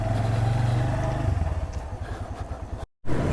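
A Suzuki GS-150 motorcycle engine runs with a low, steady idle throb that breaks into an uneven rhythmic chug, then cuts out in a brief total silence before the sound returns, recorded up close.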